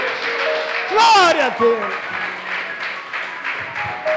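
A church congregation breaks into brief applause during a sermon. The clapping swells for about half a second amid loud, exclamatory voices, then fades back under continued speech.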